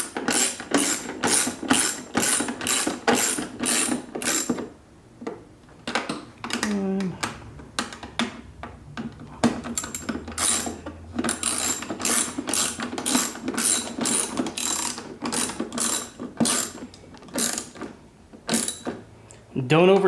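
Ratchet wrench snugging up headlight bracket bolts on a motorcycle fairing during a Moonsmc FXLRST bracket kit install, giving close, loud bursts of rapid clicking ratchet strokes with short pauses between runs.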